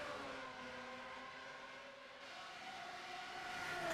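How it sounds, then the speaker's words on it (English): Race cars in a CART FedEx Championship Series racing video game at Michigan: a steady, faint engine drone with sustained tonal whine, pitch slowly climbing near the end, no voices. "the cars sound really nice"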